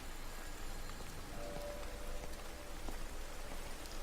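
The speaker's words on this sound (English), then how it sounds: "Told you it was going to rain." Steady rain falls across an English countryside village in the game Everybody's Gone to the Rapture, a continuous patter of drops on surfaces with a few brighter plinks, alone without voices.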